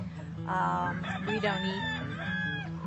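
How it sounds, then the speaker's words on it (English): Rescued, mostly injured chickens kept by a vegan community on encampment land, with a rooster crowing loudly up close over a steady bed of low clucking and flock noise. "these are mostly injured birds"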